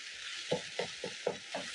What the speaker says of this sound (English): just continue using your spatula and breaking down the meat